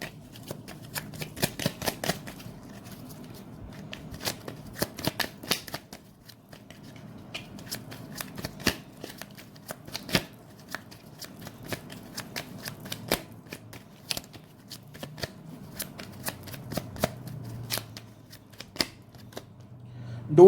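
Tarot cards being shuffled by hand, with rapid papery riffles and slaps arriving in uneven bursts over about twenty seconds, fairly close and moderately loud, with brief pauses between handfuls.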